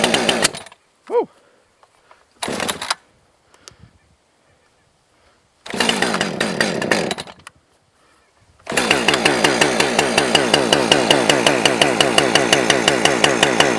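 A 30cc chainsaw fitted with a long bar starts in a few short bursts separated by silence, then settles into a loud, continuous idle with a fast regular pulsing as it warms up.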